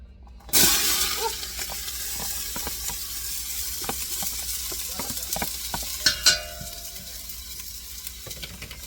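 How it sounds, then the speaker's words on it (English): Onions dropped into hot oil in a pot burst into a loud sizzle that settles into steady frying hiss, with some stirring clatter and a couple of sharp knocks near the end, no talking. "All right, so our oil is hot. Hot oil in the pot. Into the pot go the onions."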